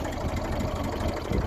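A Massey Ferguson 35 tractor engine idles low at around 600 rpm, a steady rumbling tick-over with a faint knocking pulse, close by and unbroken, with no voices.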